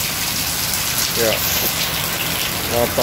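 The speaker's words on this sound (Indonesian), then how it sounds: "Hujan-hujan ya." Steady rain hisses throughout at a martabak stall in Sungailiat, Bangka, a dense wash of noise with brief voice fragments rising above it now and then.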